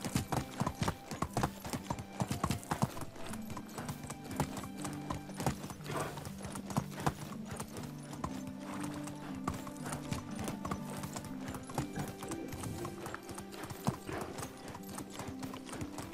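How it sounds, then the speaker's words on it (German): A horse's hooves clip-clop steadily under a rider in Medieval Dynasty, a continuous rhythmic trot heard up close, with a faint whinny and background music. "Ich sollte ein bisschen aufpassen, nicht, dass mein Pferd wirklich zu Schanden reite."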